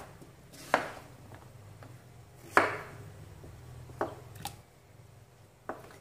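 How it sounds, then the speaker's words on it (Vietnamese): A knife chops sweet potato into pieces on a board, with a handful of sharp, separate cuts spaced a second or two apart over a faint background hum. "bây giờ các bạn sắt cho mình thành miếng ra để mình nấu cho nhanh chín ấy"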